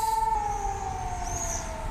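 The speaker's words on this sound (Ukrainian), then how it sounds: "Ролик починається з повітряної тривоги. Давайте подождемо, поки вона перестане визжати" An air raid siren wails steadily, a sustained high tone holding and slowly shifting pitch, loud and continuous throughout with no voices.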